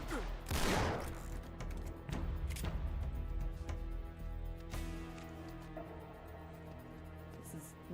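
A loud opening shot then scattered, lighter gunshots in an Uncharted 3: Drake's Deception firefight, fairly distant and low in level, mixed with background game ambience.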